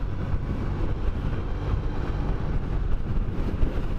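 Strong wind buffets the microphone in a continuous low roar with gusting rumble, heard on a motorcycle trip with a Triumph Bonneville heading to France; no voices.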